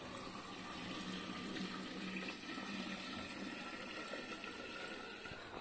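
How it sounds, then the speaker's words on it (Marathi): A faint, steady stream of mango-boiling water pours continuously into a jar, gurgling softly throughout with no voices. "ज्याच्यामध्ये आपण आंबे उकडले तेच पाणी ओतून ठेवायचं बरणीमध्ये"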